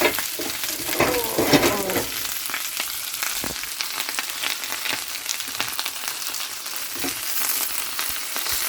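Brussels sprouts and broccoli fry in hot fat in a cast iron pan, giving a loud, steady sizzle and crackle with some stirring, close up and with no voices.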